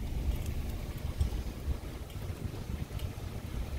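Low, continuous wind rumble fills the air with soft buffeting, no voices, with a faint steady background roar.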